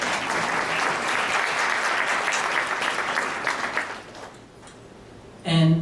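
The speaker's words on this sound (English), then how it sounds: "They deserve a round of applause for putting up with me." A seated audience at a mayor's address breaks into sustained, dense applause that holds steady for several seconds and then fades out, with a voice starting up at the very end.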